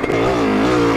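A motorcycle engine revs hard in third gear while lifting into a wheelie, a loud, close, steady rising drone that swells and holds for about a second.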